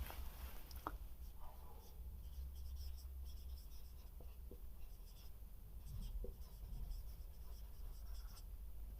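Marker or chalk writing on a board in a classroom lesson, faint scratchy strokes and occasional taps coming through a steady low hum, quiet and continuous over several seconds with no clear talking.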